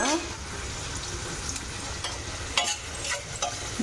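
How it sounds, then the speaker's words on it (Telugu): Onions frying in oil in a pan give a steady, close sizzle, broken by a few brief scraping stirs; no one speaks. "ఇప్పుడైతే ఈ ఉల్లిపాయ వేసేసుకోవాలి ఇట్లా ఉల్లిపాయ బాగా వేయించుకోవాలన్నమాట"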